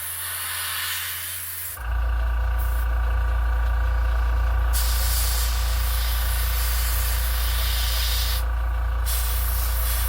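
A spray gun or airbrush misting dirty white paint onto a Jaws Quint resin model base, a steady close hiss over a low constant compressor hum, with brief pauses in the spray.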